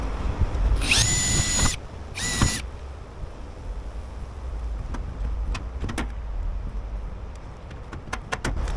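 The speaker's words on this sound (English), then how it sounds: "So now I'm just riveting that." A power riveter fires rivets into a metal downpipe, two loud drawn-out bursts followed by a run of sharp snaps and clicks at close range, with no one talking.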